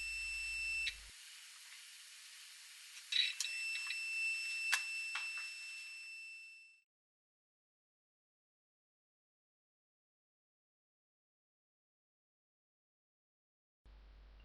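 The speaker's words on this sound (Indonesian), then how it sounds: "Apabila terdengar suara buzzer," A continuous high-pitched electronic buzz from a multimeter sounds for several seconds with a few small clicks, then cuts off into silence.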